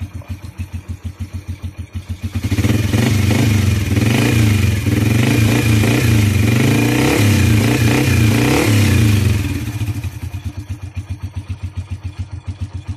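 A Kawasaki CT100 motorcycle engine, just tuned up with valve clearance adjusted, idles with a steady rapid putter, then revs up loudly for several seconds before dropping back to a chugging idle.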